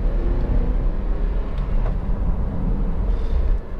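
A 2011 Honda CR-V 2.0 i-VTEC EX station wagon engine runs steadily, a low, even hum with a faint background hiss and no voices.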